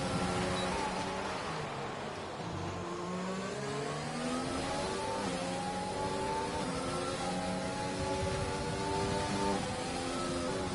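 Race cars on the Monaco street circuit, heard as a steady, dense roar of several engines revving and accelerating together, with pitches that rise and overlap throughout.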